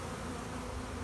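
Honey bees buzz around a newly installed hive two days after setup, a dense, steady droning hum of many insects up close, continuous with no talk.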